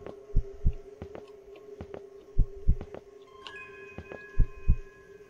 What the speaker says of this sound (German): mein Herzschlag wurde gerade irgendwie schneller